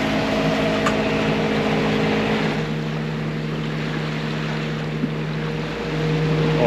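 The sailboat Horus motors along the Nova Scotia coast near Liscombe, its engine droning steadily with tonal hums over the wash of water and wind, continuous and close, with no talking.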